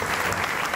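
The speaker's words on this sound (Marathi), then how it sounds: "एकदा जोरदार टाळ्या त्यांच्यासाठी." Dense, steady applause from an audience at a Bhondla 2025 festival welcome ceremony in Pimpri Chinchwad, filling the whole short moment with continuous clapping and no pause.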